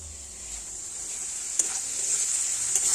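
Meat sizzling in hot oil in a pan, a steady bright hiss with occasional clinks and scrapes of stirring, close and continuous with no talking.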